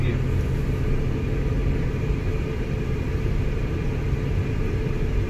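Steady low road rumble and engine drone heard from inside a moving car, continuous and fairly loud throughout with no other sounds over it.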